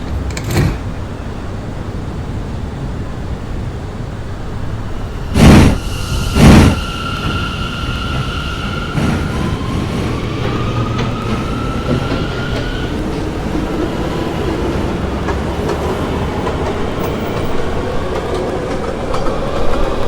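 An R179 M subway train runs along the Myrtle Avenue line, a steady rolling rumble with rail clatter, two loud thumps early on and brief tonal whines from the motors rising and falling over the drone.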